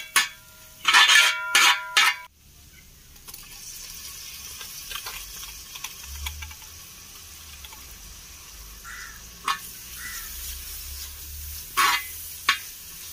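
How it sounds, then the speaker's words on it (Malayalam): Onions frying in a pan for mutton dum biryani as crushed ginger, green chili and garlic go in, with a few loud stirring and scraping clatters near the start and later, over a quiet steady sizzle. "സവാള വാടിയതിന് ശേഷം നമുക്ക് ചതച്ച് വെച്ചിരിക്കുന്ന ഇഞ്ചി, പച്ചമുളക്, വെളുത്തുള്ളി എന്നിവ ഇതിലേക്ക് ചേർക്കാം"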